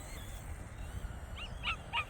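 Dogs in an open field let out a few short yips and whimpers near the end, over steady outdoor background noise.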